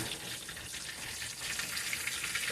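A fish fillet frying in hot oil in a pan, giving a steady bright sizzle with small crackling pops throughout, close and moderately loud with no speech.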